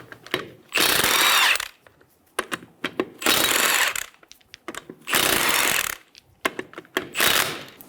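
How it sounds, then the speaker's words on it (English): An impact tool spins lug nuts off a 2000-2007 Ford Focus wheel with a 19mm socket, giving four loud close whirring bursts separated by short clicks and clatter from handling the nuts. "Using a 19mm socket, remove the 4 lug nuts"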